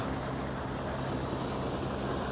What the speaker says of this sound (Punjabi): 100 ਸਾਲ ਪੁਰਾਣਾ ਹੜੰਬਾ ਚੱਲ ਰਿਹਾ ਇਸ ਵਕਤ